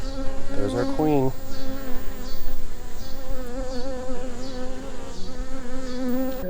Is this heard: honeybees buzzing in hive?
yes